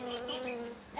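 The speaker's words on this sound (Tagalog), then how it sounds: "Ay, ang laki ng bubuyog." A large bee hovers close by on a house roof deck, its steady droning buzz holding at moderate loudness for about a second.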